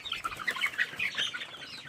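Chickens that were once chicks cluck and chatter inside their coop on a farm, a busy overlapping flock close by with no one speaking.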